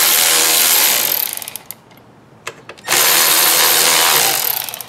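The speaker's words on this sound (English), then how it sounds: "first thing we're going to do here is take the battery terminals off. There's a 10mm nuts over here." Power tool spinning off 10mm nuts on a Ford Focus battery terminal: a loud, sustained close-up whir that fades off, a brief quiet gap with a few clicks, then a second long loud burst of the tool.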